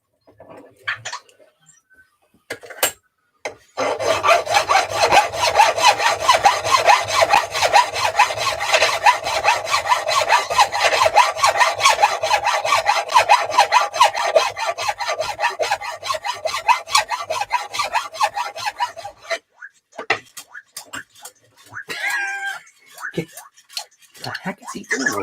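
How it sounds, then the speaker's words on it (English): Metal file rasping steadily on a part for a Losi SBR 2.0 RC car, a close, loud, continuous back-and-forth scraping for about fifteen seconds, with brief talk and knocks before and after. "I want to continue filing on"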